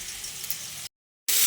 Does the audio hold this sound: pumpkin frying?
yes